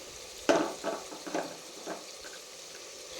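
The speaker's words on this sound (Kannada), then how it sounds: "ಸ್ವಲ್ಪ ಫ್ರೈ ಆಗಬೇಕು, ಒಂದು ಅರ್ಧ ಭಾಗನಾದರೂ ಫ್ರೈ ಆಗಬೇಕು ಎಣ್ಣೆಯಲ್ಲಿ" Chopped vegetables fry in oil in a pan for uppittu, giving a soft sizzle punctuated by a few stirring scrapes and clicks, fairly quiet and without talk.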